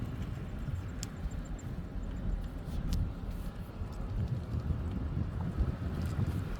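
Steady wind noise buffeting the microphone while driving out of a lakeside camping area, a continuous low rumble with faint road sound and no talking.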